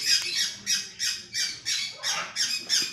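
A bird at a bird store squawking harshly and close, about ten rhythmic, evenly spaced calls in quick succession with no talking.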